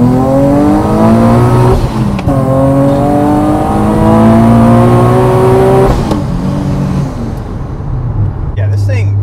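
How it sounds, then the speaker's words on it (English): Supercharged Nissan 370Z accelerating hard from inside, a loud engine note climbing through repeated gear pulls with a rising supercharger whine, and a voice speaking over it near the end. "So you get a lot more of them sick supercharger noises"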